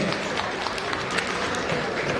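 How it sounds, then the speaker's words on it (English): Spectators applaud both teams after the Barringer versus JFK Patterson game. The clapping is a steady, dense wash of many hands, moderately loud and even throughout. "Let's give a round of applause for both teams"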